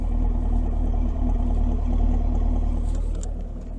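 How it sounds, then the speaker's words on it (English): A 2022 Chevrolet Camaro 1SS 1LE with an aftermarket exhaust idles with a deep, throaty, steady rumble up close, easing slightly toward the end. "But this exhaust, just listen to that."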